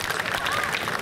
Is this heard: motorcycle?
no